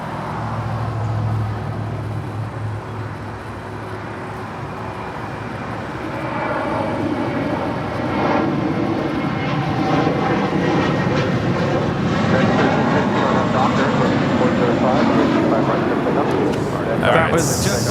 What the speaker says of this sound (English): That was JetBlue 324 departing to JFK